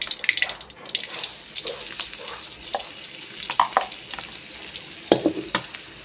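Spices fry in hot oil for a homemade meatball broth, a close crackling sizzle broken by several sharper pops and stirring scrapes, with no talk.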